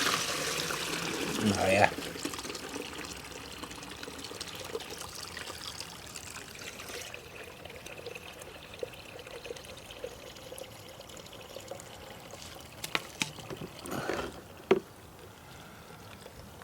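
Water trickles and gurgles through a caravan drain being cleaned out, a faint steady flow with a few louder splashes, while a voice speaks briefly.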